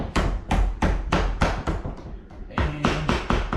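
About nine sharp, evenly spaced hammer taps ring out close by as a loosened part on a Honda Grom motorcycle is knocked free after its bolts come out.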